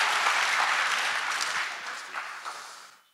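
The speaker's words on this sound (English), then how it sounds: "one more round of applause" Conference audience at POLYCON18 gives a round of steady, full applause that gradually fades and stops within a few seconds.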